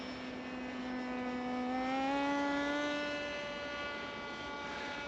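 A cheap, small, lightweight rudderless RC model plane flies in a gentle breeze, its motor giving a thin droning whine that swells and bends in pitch as it passes, then eases off.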